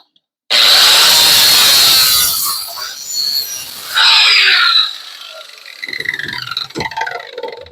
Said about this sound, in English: My expertise with the mini grinder.